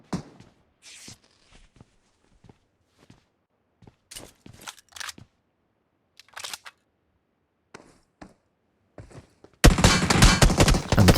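Scattered soft clicks and taps give way near the end to a sudden loud burst of sustained automatic gunfire in the PUBG Mobile video game on the Rondo map.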